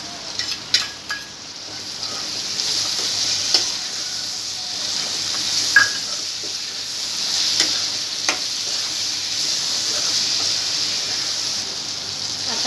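Finely chopped tomato sizzles in a hot pan for a potato bhaji, a steady, moderately loud hiss broken by scattered light ticks and clicks of stirring throughout.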